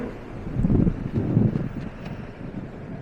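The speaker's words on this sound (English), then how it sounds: "Seems like the wind is blowing around on my chest area here, coming around the windshield." Wind buffets around the windshield of a moving Kawasaki Versys 650 motorcycle, a low rushing roar that swells and fades in gusts, heard close to the rider without talk.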